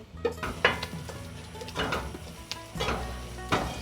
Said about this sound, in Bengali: মশলা কষানো হয়ে গেছে, এবার ম্যারিনেট করে রাখা মাংস দিয়ে দেব।